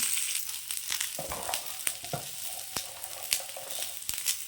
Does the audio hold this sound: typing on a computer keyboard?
no